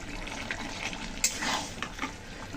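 A spoon stirs pumpkin greens curry with fried fennel, cumin and mustard seeds in a pan, soft scraping and gentle sizzling with a few sharper metal knocks, close and alone.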